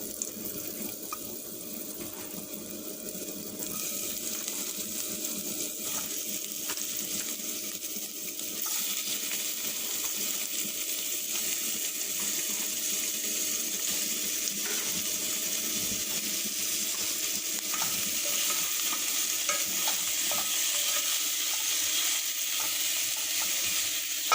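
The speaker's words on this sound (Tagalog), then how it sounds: "Need to fry this one. Put all the vegetables." Vegetables for a soup, seasoned with oregano, frying in a pan with a constant dense hiss and sizzle, broken by occasional soft stirring knocks; no one speaks.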